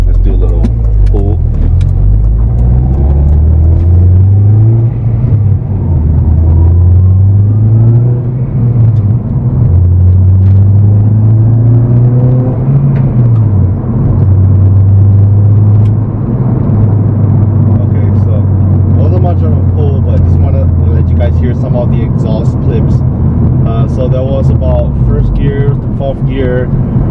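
A Honda Civic Si accelerating hard, its engine droning loudly as the revs climb and drop through several gear shifts at around 3000 RPM, heard from inside the car.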